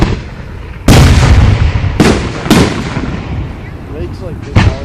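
Fireworks burst over Runyan Lake in Fenton, Michigan, at a 2013 show: four loud, sharp booms at irregular intervals, each trailing off in crackling echo, heard from close by.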